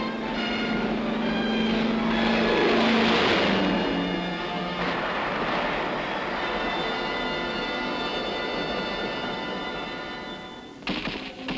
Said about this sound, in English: infantry watch United States planes strafing the enemy in the nearby hills